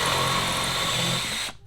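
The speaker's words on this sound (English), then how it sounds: "I have a new bit that does my countersink and drills my hole in one go" A power drill with a combined countersink and drill bit bores a screw hole in a single continuous high-pitched whine, then stops abruptly near the end, close and loud with no talking.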